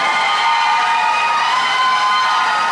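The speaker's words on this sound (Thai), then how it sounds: "กองเชียร์เขาอยู่ด้านนี้" Dense crowd of supporters cheering and shouting steadily at a Miss Thailand beauty pageant, a loud continuous roar of voices with no pauses.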